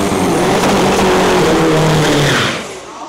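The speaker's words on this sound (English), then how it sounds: "Like, there's something wrong with that engine." Faulty diesel race car engine at an Isuzu race event in Thailand, heard as a loud, rough, sustained roar close by that fades away at the end.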